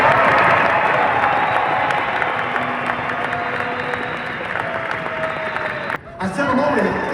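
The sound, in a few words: audience applause for competitors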